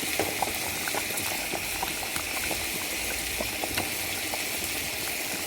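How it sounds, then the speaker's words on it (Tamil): A vegetarian fish-style curry made with toor dal and pieces of raw mango boiling in a pot, a constant bubbling simmer with small pops throughout, close and moderately quiet, no speech. "கொதித்து சூப்பராக ரெடி ஆயிடுச்சு மீன் குழம்பு"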